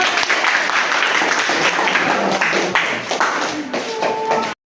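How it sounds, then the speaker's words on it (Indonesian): Applause from a classroom audience after a group's class presentation, a dense burst of clapping lasting a few seconds and ending abruptly, with faint voices mixed in. "Berikan aplaus untuk"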